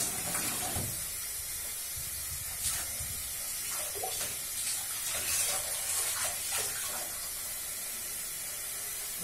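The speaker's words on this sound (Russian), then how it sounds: "Так, теперь наливаем воды. Штанины держим руками, чтобы вся вода не вылилась." Water is poured from a tap into the legs of a wetsuit, a steady splashing and trickling stream with a few louder gushes, heard close up with no talking.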